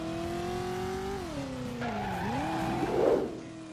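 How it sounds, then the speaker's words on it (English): Car skidding and racing through city streets in the video game Driver: a loud, continuous engine whine that dips and climbs in pitch, with tire squeal and a rough skid rising near the end, with no voices. "you see a car causing havoc on the city streets"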